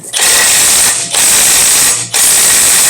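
Ratchet tightening torque converter bolts on an LS engine, three close, loud bursts of rapid clicking separated by brief pauses between strokes.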